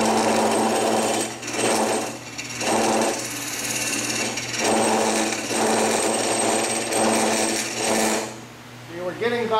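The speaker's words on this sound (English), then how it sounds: "I want to speed the lathe up a little because scrapers cut better with the lathe running" Wood lathe turning at higher speed while a scraper cuts a wooden coin funnel, a steady close-up whir with rhythmic rising and falling bursts of scraping about every second, ending with a brief pause.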